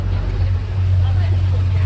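Passenger boat engine on a backwater trip to Kumarakom, a steady low drone that holds close and loud throughout with no break.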